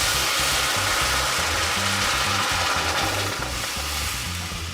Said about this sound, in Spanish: En una sartén caliente pondremos un poco de aceite y aquí pondremos a sazonar